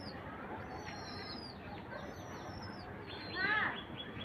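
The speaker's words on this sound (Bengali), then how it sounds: "কবুতরগুলো সুন্দর না?" Pigeons coo softly in a loft, faint and a little distant, with scattered light bird calls and a slightly louder burst of calls near the end.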